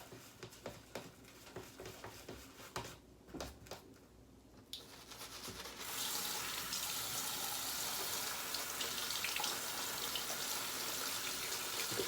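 Water runs onto shaving soap, starting as scattered drips and clicks, then swelling halfway through into a steady, loud, close gush from a tap.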